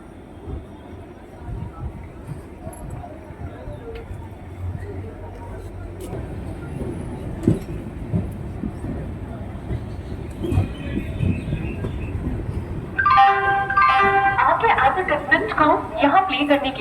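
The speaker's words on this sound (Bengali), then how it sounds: "ট্রেন ছেড়ে দিল খড়গপুর স্টেশন থেকে" The Puri Dhauli Superfast Express pulling out of Kharagpur station, a low rumble and rattle of the moving train building steadily, with voices talking over it and a brighter clatter near the end.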